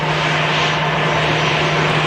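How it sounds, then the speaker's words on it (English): A Boeing 787 Dreamliner departing Manchester Airport produces a loud, steady engine roar that holds constant throughout with no break. "To a Dreamliner on the way out."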